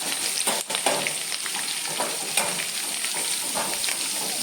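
Mustard seeds sizzling and popping in a pan with roasted peanuts, a continuous bright frying hiss with scattered crackles, close and steady, with no speech.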